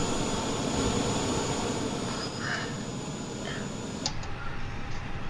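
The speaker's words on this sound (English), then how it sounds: "I'm just going to wait for that APU to switch off, and then we can fully shut down the aircraft." In Microsoft Flight Simulator 2020, an Airbus A320neo's APU runs with a steady high whine and broadband roar before shutdown, with a faint click near the end as the tone drops away.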